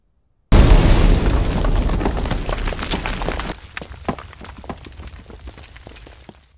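A sudden loud grenade explosion in a warehouse bursts in during a film scene, followed by a long rumbling roar that fades into scattered debris, crackles and pops.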